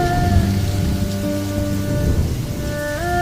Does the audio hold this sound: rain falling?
yes